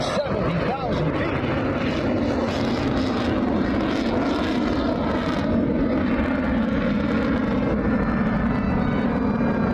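A Lockheed U-2 high-altitude jet with 17,000 pounds of thrust roars past at an air show, a loud continuous broadband rush of engine noise holding steady throughout.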